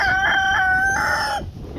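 A farm rooster belts out a loud, close cock-a-doodle-doo in several drawn-out pitched segments, ending abruptly.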